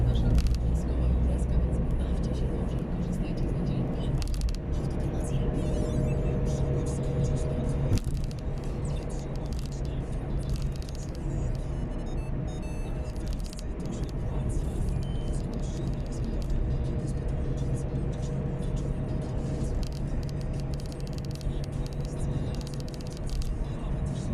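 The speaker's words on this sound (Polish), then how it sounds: "wyjazd samochodów ze stacji." Steady low road rumble of cars driving out of a station beside road works between Bielawa and Dzierżoniów, Poland, a continuous traffic drone with occasional engine swells throughout.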